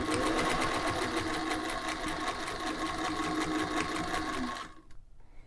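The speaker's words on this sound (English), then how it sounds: "this is the first time I've ever quilted anything on this machine" A vintage Singer 201-2 sewing machine quilts a table runner with a steady, close, rapid stitching rhythm that runs continuously and then stops abruptly near the end.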